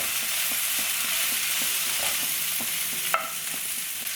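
Sliced onion and rough-cut ripe tomato sauté for egg curry, making a constant bright sizzle in the pan. Faint rhythmic stirring taps run throughout, with one sharper clink near the end.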